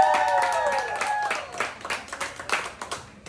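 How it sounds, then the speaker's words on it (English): Scattered clapping and applause from restaurant diners at a Texas Roadhouse, cheering a little girl who just finished kindergarten; it starts over fading sung tones, then comes in uneven bursts of claps at moderate volume. "Can I get a round of applause for her?"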